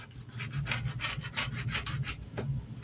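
A rotary cutter slices fabric for a coffee cup cozy in a series of short, rhythmic scraping strokes, close and fairly loud, with brief pauses between passes.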